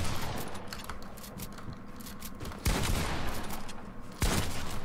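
Gunfire in the video game Fortnite: scattered sharp shots crackle through the first half, then two loud, close blasts land about a second and a half apart.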